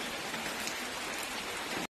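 Light rain falling outdoors near a village house in Assam, a steady soft hiss of drops with no talk over it.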